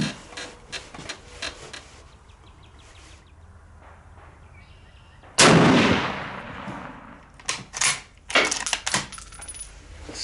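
Bolt-action rifles such as a K98k, a No4 MK II and an M44 are fired at a 100-yard range, one sharp loud blast with a ringing tail followed by clattering handling sounds and a few shorter bangs.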